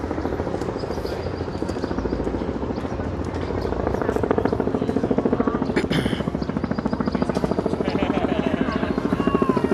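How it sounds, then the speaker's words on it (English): Helicopters flying overhead above Manhattan, a steady throbbing rotor drone filling the whole stretch, rising slightly louder midway, with a voice talking beneath. "we got the choppers overhead"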